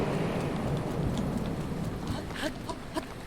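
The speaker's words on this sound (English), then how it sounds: "Hopefully the lightning and the rain will let up." Steady rain hisses in a video game storm, with a low thunder rumble underneath and a few faint tapping sounds toward the end.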